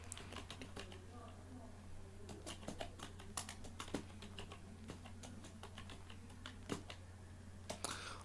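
Typing on a computer keyboard gives quick irregular clicks in short bursts with pauses, close and fairly quiet over a low steady hum.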